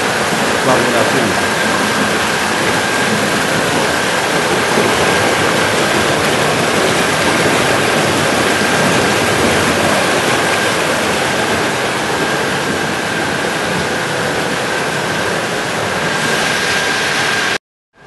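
Water rushes continuously through a water treatment plant, a loud, steady broadband roar like a weir or channel that stays constant throughout with no pauses, plus a faint steady hum.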